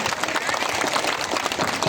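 Crowd at an outdoor political protest rally applauding an MP, a dense, steady wash of clapping at close range lasting the whole moment, with a few voices mixed in.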